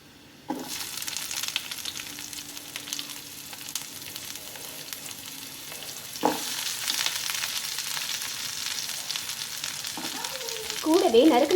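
Onions hit a hot pan with baby corn for baby corn Manchurian and crackle in a sudden sizzle that keeps frying steadily, broken by a knock and the scrape of stirring.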